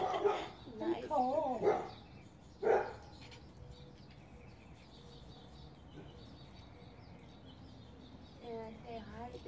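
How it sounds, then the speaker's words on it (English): A few sharp dog barks early on, close and fairly loud, followed by quiet outdoor ambience with a faint bird-like call near the end. "The dog is barking."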